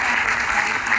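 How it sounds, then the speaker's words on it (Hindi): Loud, dense applause from an audience at an agricultural training session at IIT Bhilai, welcoming the institute's director, a steady wash of clapping lasting about a second. "हमारे निदेशक आईआईटी भिलाई प्रोफेसर राजीव प्रकाश जी का जोरदार तालियों से स्वागत कीजिए।"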